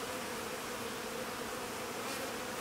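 Honeybees hum from an open hive during an inspection, a steady dense buzz that continues unbroken and fairly close.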